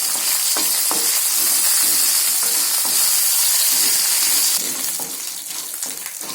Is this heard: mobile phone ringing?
no